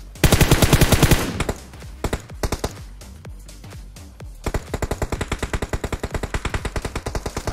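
Automatic gunfire from PUBG Mobile rattles close and loud, opening with a fast burst, breaking into scattered single shots, then settling into a steady rapid volley through the end.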